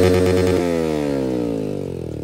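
A Yamaha R15 V3 motorcycle fitted with an Akrapovic exhaust revs sharply once close up, then the engine note winds down smoothly over about two seconds.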